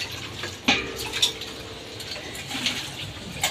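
Dishes being washed by hand in a home kitchen, with intermittent clinks and clatters of plates and utensils over a soft watery background, several sharp knocks spaced across the short stretch.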